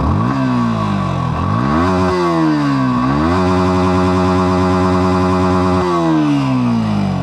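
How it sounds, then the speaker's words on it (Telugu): A 2025 Yamaha R15 V4 motorcycle revs repeatedly at close range, its exhaust climbing and dropping through several blips before holding a longer high rev, loud and alone with no talking. "ఒకసారి ఎగ్జాస్ట్ సౌండ్ వినండి."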